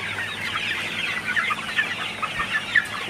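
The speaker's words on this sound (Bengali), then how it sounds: "আপনারা দেখতে পাচ্ছেন মুরগিগুলা খাইতেছে।" Sonali hybrid chickens cluck and chirp continuously while eating in a close flock, a busy overlapping chatter of short calls with no voices.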